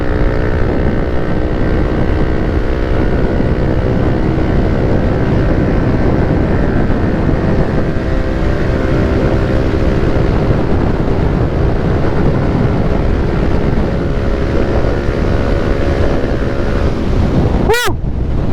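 Continuous loud engine roar with a steady buzzing tone from a Yamaha NMAX 155 scooter fitted with a JVT V3 powerpipe held at full throttle, recorded close up with heavy wind noise and a brief sharp click near the end.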